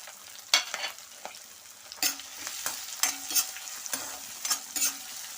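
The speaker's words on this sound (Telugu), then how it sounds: "ఉల్లిపాయలు వేగుతున్నాయండి." Onions and green chilies fry in a pan of oil, giving a soft, steady sizzle with crackling pops and occasional scrapes of a stirring spoon, heard close with no talk.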